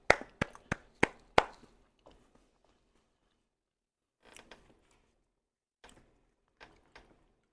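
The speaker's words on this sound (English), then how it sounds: "Y'all definitely deserve claps. Give yourself some claps." Hands clap five times in quick succession, sharp and close, then a few softer, sparser claps follow after a pause in an otherwise quiet room.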